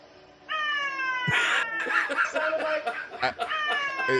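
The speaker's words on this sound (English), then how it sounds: "Was that like a cat or something, or?" A cat meows in a drawn-out, wavering cry, joined partway by a snicker and laughter nearby, then the meow rises again.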